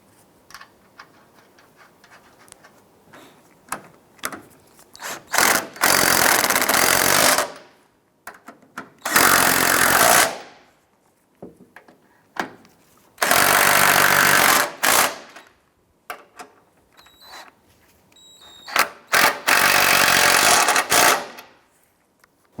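Strut assembly mounting nuts on a 2001-2007 Ford Escape run down with an impact tool: five loud, close, rattling bursts of a few seconds each, separated by quiet pauses with small clicks.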